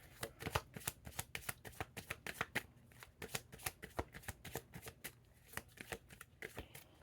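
A deck of cards shuffled close up, with rapid repeated papery flicks and riffles in an even rhythm for several seconds, quiet and alone without speech.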